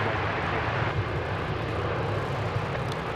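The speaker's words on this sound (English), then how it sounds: "American Flight 34 coming in from Auckland. This will be a 7879 Dreamliner" A Boeing 787-9 Dreamliner airliner arriving at DFW on an American flight from Auckland makes a steady, broad jet roar with low rumble that stays constant throughout, with no break or change in level.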